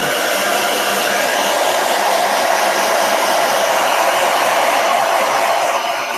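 A hair dryer roars continuously and close up as it dries the paint on a blue and yellow mandala painting, a loud, even airy whoosh with no talking.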